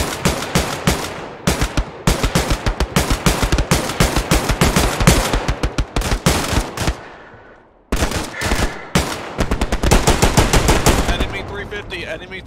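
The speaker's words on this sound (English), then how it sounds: "Taking fucking rounds." Machine gun fire in the World War II shooter game Hell Let Loose, loud rapid bursts of automatic shots nearly continuous, broken by one brief pause, with a voice speaking under the gunfire.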